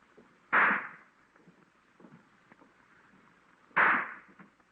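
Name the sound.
firecrackers exploding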